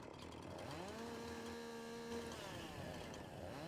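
A chainsaw in Farming Simulator 22 runs steadily and loudly throughout, its engine pitch rising and falling as it cuts, with no talk over it.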